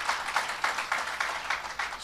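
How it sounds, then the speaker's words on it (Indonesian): Clapping in a church service, a rhythmic run of loud, closely spaced claps at a steady beat, close and sustained across the short stretch. "Tepuk tangan panjang bagi Tuhan Yesus."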